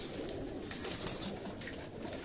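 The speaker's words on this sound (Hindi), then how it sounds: "ये छोटे बेबी पिजन हैं" Baby pigeons coo softly on a Karachi rooftop loft amid a dense rustle of flapping wings, a continuous close flutter with faint high chirps on top.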